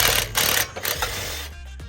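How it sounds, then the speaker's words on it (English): A ratchet works a 14 mm bolt loose on a 2022 WRX muffler, giving a fast, close run of rapid clicking in short bursts with brief pauses. "use a 14 mm wrench on one side and the ratchet on the other side to loosen it"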